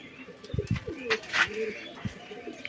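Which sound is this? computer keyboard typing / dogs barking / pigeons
pigeons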